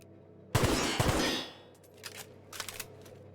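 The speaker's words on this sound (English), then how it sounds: "Okay, it's burst fire." A burst-fire gun shooting in The Outer Worlds, two sharp, loud bursts close together followed by fainter clicks and mechanical clatter.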